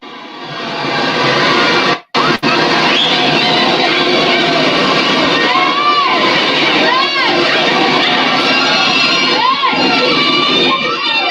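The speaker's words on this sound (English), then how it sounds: "That's people on the parade route yelling for beads." A loud Carnival parade crowd on a street route yelling and cheering for thrown beads, a dense continuous roar of many voices with children shouting, close and sustained, briefly cutting out near the start.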